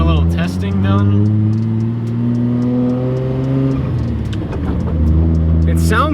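Datsun 280Z driving around the block: a steady, loud engine hum with rising and falling pitch as it revs, heard beneath someone talking throughout.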